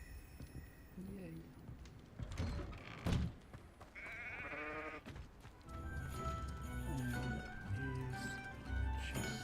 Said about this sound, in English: There's a sheep as well.